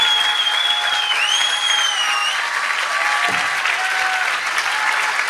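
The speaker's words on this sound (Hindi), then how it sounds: "समझ में आएगा तो जोर से ताली बजाइए" An audience at a Christian church gathering claps loudly and steadily in a sustained burst of applause, with a sustained electronic tone ringing over the crowd.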